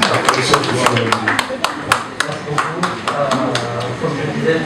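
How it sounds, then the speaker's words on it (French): An audience at a fashion show claps for a designer of a Koffi Olomide collection, a steady ripple of many hands under a loud speaking voice. "Applaudissez quand même pour le créateur de la collection de Koffi Olomide"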